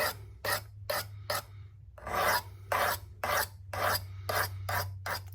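A Civivi Nitro V knife bevel with a stonewashed finish and green canvas micarta handle being sharpened: about a dozen close, loud rasping strokes across the abrasive, in short uneven bursts with brief pauses, over a low steady hum.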